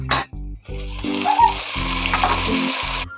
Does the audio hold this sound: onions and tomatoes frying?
yes